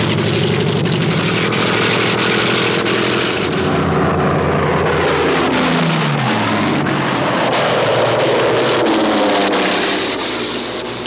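Piston engines of World War II Mustang fighters escorting bombers over Germany drone loudly and continuously, with a steady propeller roar that swells and shifts in pitch as the aircraft pass.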